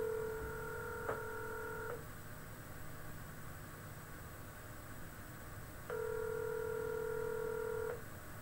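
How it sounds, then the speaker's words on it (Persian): Touch-tone phone keypad tones, two separate dual-tone beeps of about a second and two seconds, played clearly over a steady hiss with no talking. "میام توی قسمت تلفن شماره رو میزنم"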